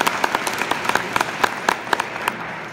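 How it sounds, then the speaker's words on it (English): Sparse applause at a school one-act play night, with a handful of close, distinct hand claps in an uneven rhythm over a low background murmur. "So another round of applause."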